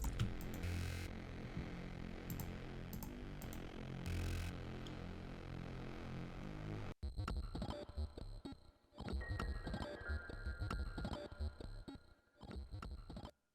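A synth bass patch from Shark Boy's Ecstasy Serum bank repeats one note inside a beat. A dense, thick stretch gives way to choppy, rhythmic hits with gaps between them, fairly quiet overall and with no voices.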